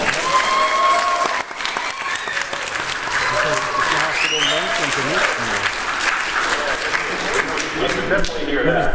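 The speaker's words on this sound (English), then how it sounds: "On my mark, 1, 2, 3, applause." A crowd bursts into applause on cue in a school setting, clapping densely and continuously throughout, loud and near, with voices and other sounds mixed under the clapping.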